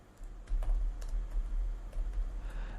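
Typing on a computer keyboard, with quick irregular clicks and taps close by, fairly soft, alongside a low background rumble.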